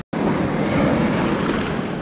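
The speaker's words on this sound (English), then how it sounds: "The waves are so strong," Powerful waves surge and wash over a Nusa Lembongan beach in Indonesia, the water dragging stones along; after a short silent gap a continuous loud, close roar of surf follows, mixed with wind noise on the microphone.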